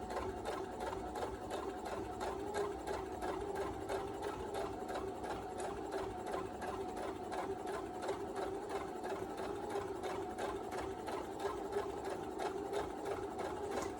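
Sewing machine running steadily while stitching around a circle on a fabric hair bow, a continuous close mechanical whir with a fast even needle rhythm and no pauses.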